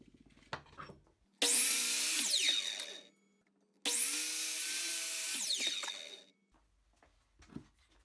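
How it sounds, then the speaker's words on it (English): A power tool cuts a wooden wedge for a hammer handle during a hammer restoration, two loud sustained whining cuts of a few seconds each, starting abruptly and winding down, with faint handling knocks between. "the next step would be to cut a wedge to hammer into the handle so that the"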